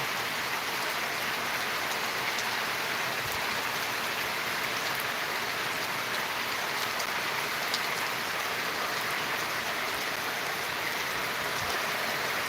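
Rain falls steadily on a soybean field, a dense, even hiss of drops that continues unbroken at a moderate level from start to finish.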